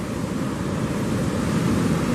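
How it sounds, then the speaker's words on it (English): Ocean surf at the St Lucia estuary, where incoming waves meet an outgoing current, makes a steady, loud broadband roar with wind buffeting the microphone throughout and no breaks. "The waves is pushing this way, the current is pulling out."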